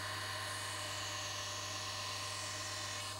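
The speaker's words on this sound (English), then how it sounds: "Using our diamond saw, we'll gently, carefully cut these off." Diamond saw trimming the sides off a black opal, a steady high-pitched whine with a constant low motor hum, continuous and close.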